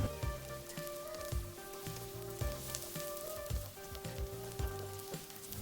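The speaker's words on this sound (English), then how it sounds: "Stir fry them until they are done and become really fragrant." Shallots stir-fry in a hot pan for candied pork belly, a steady close sizzle with scattered crackles and occasional scrapes running throughout, no talking.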